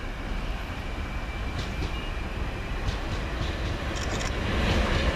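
A Class 377 electric train arriving at Havant station gives a steady, fairly loud rolling roar with faint clattering of wheels, holding constant and swelling slightly toward the end.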